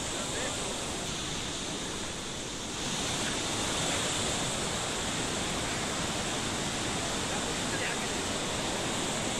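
Rivers swollen by a cloudburst and heavy rain in Uttarakhand rushing in flood, a loud, dense, unbroken roar of churning water that swells slightly after the first few seconds and holds steady.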